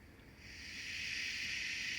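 A soft, steady hiss of steam from a model steam train rises and holds, quiet and airy, with no other sounds around it.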